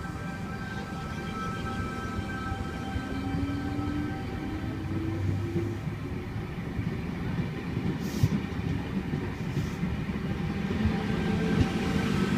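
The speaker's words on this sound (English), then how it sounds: "The train on platform V44 departing platform 3," Sydney Trains V-set electric train departing platform 3 at Wyong on a Newcastle service, a steady low rumble with faint rising motor whine and a couple of brief high hisses, heard from the platform.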